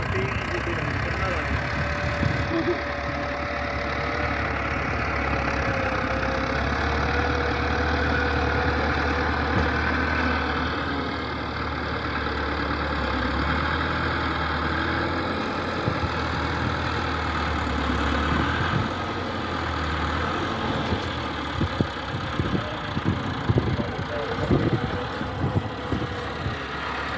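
A tractor engine runs steadily while overheating, a continuous loud low rumble that persists throughout, with faint voices and a burst of clattering near the end.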